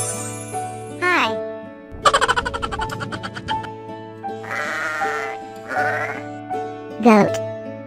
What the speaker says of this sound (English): G-O-A-T, goat.